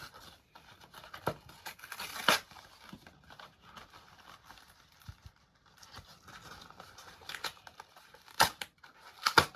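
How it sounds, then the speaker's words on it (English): Packaging rustles, tears and clicks as a Yu-Gi-Oh structure deck box, The Crimson King with Red Dragon Archfiend, is opened up close, in irregular bursts of crinkling with several sharper snaps and quiet stretches between. "So let's just open the box."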